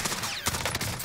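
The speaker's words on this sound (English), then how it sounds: "Apparently, I can't hit any shots." Rapid gunfire from a SCAR rifle in a Call of Duty match on Alcatraz, with several sharp, close shots cracking in quick succession over about a second.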